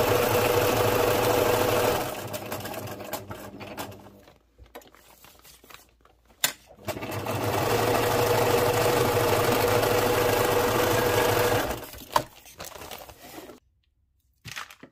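A sewing machine stitches through candy corn packaging for a junk journal cover, running in long steady mechanical bursts separated by short pauses, close and fairly loud, with no talking.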